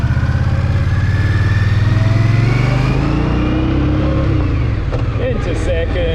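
A 2023 Indian Scout Bobber motorcycle pulls away on a test ride, its engine note climbing loud and close before dropping as it shifts into second gear, then building again with wind rush.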